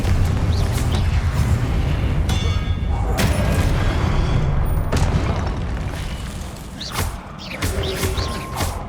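Confringo blast spells in Hogwarts Legacy, repeated heavy booming explosions with thuds and crackling bursts one after another, loud and close, amid game effects and a voice casting spells.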